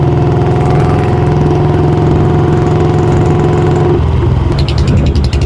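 A Royal Enfield Bullet motorcycle with a custom exhaust idles close by: a loud, steady, low thumping beat that holds evenly, then shifts slightly near the end as a light rattle comes in.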